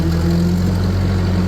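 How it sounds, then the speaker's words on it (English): A vintage Ferguson TO35 tractor engine drones steadily while pulling a bush hog over rough ground, a close, continuous labouring hum with a low throb underneath. "You can hear the engine load up."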